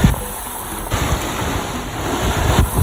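Sea water surges against a seaside building in Boracay, a loud continuous wash of waves with wind buffeting the microphone and no voices.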